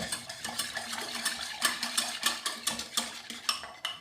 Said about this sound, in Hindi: थोड़ा सा नीचे जम गया, ये भी मैं अच्छी तरह से इसको मिक्स कर लेती हूँ